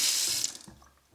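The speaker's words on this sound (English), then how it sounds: "Simple sink, hot and cold" Water gushes from the hot and cold tap of a small kitchen sink in a renovated 150-year-old Scottish cottage, a loud, bright rush for about half a second before it quickly fades away.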